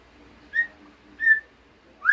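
A white-rumped shama (murai batu) gives three short, clear whistled notes spaced evenly apart, close and alone against near silence.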